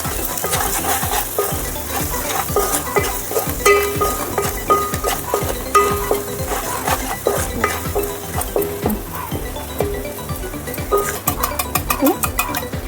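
Salt and chili powder being stirred into an egg ponganala curry, with rapid repeated spoon scrapes and clinks against the pan over a soft sizzle, loud and close throughout.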